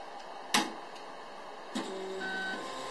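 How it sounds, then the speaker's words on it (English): Chinese K40-class DCK40III desktop laser engraver running with the laser off, its head moving: a quiet steady mechanical hum with two sharp clicks and a soft whirring stepper tone near the end. "I'm turning the machine on, but not the laser."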